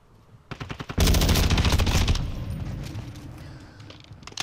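Automatic gunfire in Call of Duty on the Punta Mar map, a fast close rattling burst that follows scattered shots and fades into a rumbling tail.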